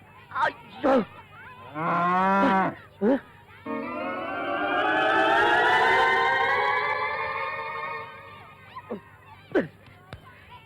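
A cow tied up along a path moos loudly and close by, with a couple of short calls followed by one long, drawn-out moo and a few sharper bursts near the end.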